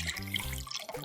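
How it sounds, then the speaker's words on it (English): Water is poured onto the top of a kitchen gadget, giving a brief, close splashing trickle that lasts about a second and then stops. "This one, I guess I just pour the water on the top."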